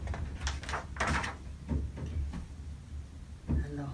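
A door in a storybook setting opens onto a hot, wet world, giving a series of soft knocks and scrapes with a brief clunk near the end, fairly close and moderately loud, with no voices.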